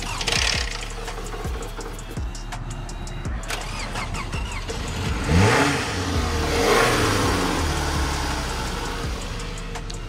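An old, rough-running car engine cranks, catches and revs in uneven bursts, rising and falling before settling toward a loose idle, loud and close with no talking.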